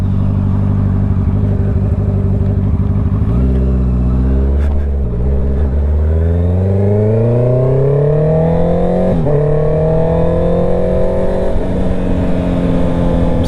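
A motorcycle engine runs loud and steady, its pitch rising as it accelerates through the gears, close up with no talking.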